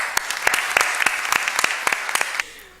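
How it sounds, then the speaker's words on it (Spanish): Conference audience applause for a speaker at an arbitration congress in 2008, scattered distinct claps at a fairly even rhythm over a soft clapping bed, stopping suddenly before a quiet room tone. "Un fuerte aplauso para la doctora Gasque"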